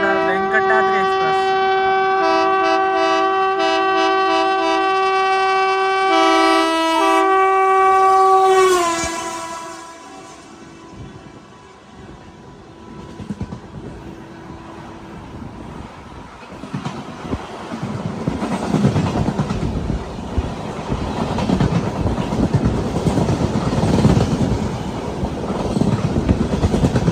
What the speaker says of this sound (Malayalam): ക്രോസിങ്ങിന് വേണ്ടി നിർത്തുകയാണ്. ചിറ്റൂർ കാച്ചിഗുഡ വെങ്കടാദ്രി എക്സ്പ്രസ്.